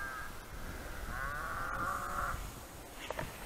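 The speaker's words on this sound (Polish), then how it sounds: "Krowy ryczą" Herd of cattle out in a pasture late at night, a long drawn-out moo carrying from a middle distance, with a short call near the end over a quiet outdoor background.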